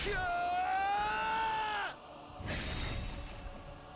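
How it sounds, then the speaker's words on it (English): A long, loud, wavering scream in the game Hundred Line: Last Defense Academy, sustained for about two seconds and then cutting off into a rough, noisy burst and fading ambience. "I felt a white-hot pain and heard a scream."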